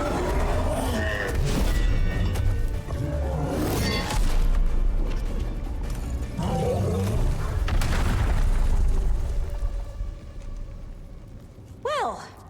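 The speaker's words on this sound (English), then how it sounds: "I laid lots of bombs." Bombs go off during combat in Dragon Age: The Veilguard, a series of loud booming blasts mixed with impacts and game effects, with a voice talking over the action.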